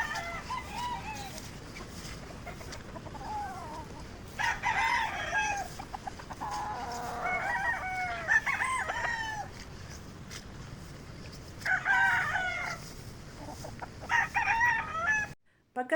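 Roosters crowing and chickens clucking on a gamefowl farm, several crows from birds at different distances, some near and some farther off, over a background of steady clucking.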